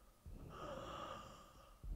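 An elderly woman character in the horror game The Guest breathes heavily in a faint, drawn-out snorting wheeze, followed by a brief sharper breath at the end.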